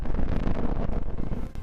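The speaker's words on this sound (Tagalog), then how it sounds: "Ang pumipintig na kakofonya ng Merkuryo." Planet Mercury's converted space recording gives a brief, loud, rough rumble with a pulsing, wavering texture, like gusting wind, dipping near the end.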